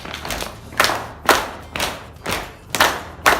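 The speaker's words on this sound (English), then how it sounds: "Let's bring in slap, slap, clap," Thigh slaps and hand claps from an older adults' strength and balance exercise class, sounding as sharp, close percussive hits in a steady repeating rhythm, roughly two per second, alone without talk.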